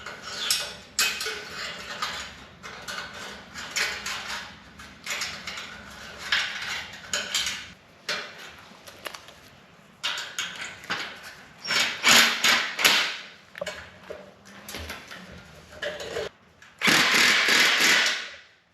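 An exhaust clamp is fitted and tightened on a Honda VTX1800 with Vance and Hines Big Shots pipes: close metallic clinks, tool scrapes and ratchet clicks in irregular bursts, with a louder rasping stretch near the end and no voice.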